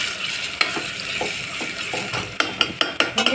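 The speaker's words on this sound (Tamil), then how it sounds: "வெங்காயம் நல்லா வெண்ணிறமாக வதங்கணும்" Onions sautéing in oil for quail biryani, sizzling steadily while a spoon stirs and scrapes, with sharp metallic taps against the pan toward the end.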